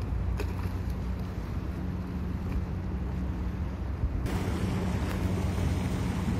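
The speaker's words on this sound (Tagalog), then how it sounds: "May dadaong na bangka." Small boat coming in to dock amid surf, heard as continuous wave wash and wind rumble with steady low engine-like drone throughout, fairly close and loud, no voices.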